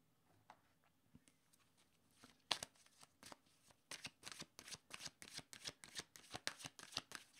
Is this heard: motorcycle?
no